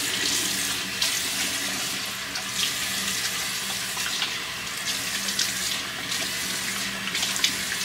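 Water running steadily from a bathroom tap into a sink, a continuous close splashing hiss with no break and no talking.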